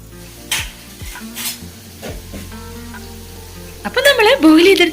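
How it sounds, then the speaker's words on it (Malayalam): Chicken sizzles steadily frying in oil under a busy kitchen scene, with occasional clinks of utensils and stirring, and a voice speaking over it near the end. "ചിക്കൻ ഫസ്റ്റ് ബാച്ച് ഫ്രൈ ആയി വന്നിട്ടുണ്ട് ഇനിയിപ്പോ നമ്മൾ സെക്കൻഡ് ബാച്ച് നിന്ന് ഇട്ട് കൊടുത്തിട്ടുണ്ട്"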